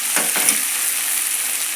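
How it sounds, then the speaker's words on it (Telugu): Tomatoes sizzle in a hot pan, a close, steady frying hiss with a couple of brief stirring scrapes at the start. "చిక్కుడుండి టమాటాలు మగ్గిస్తున్నాను."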